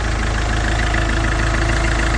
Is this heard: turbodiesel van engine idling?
yes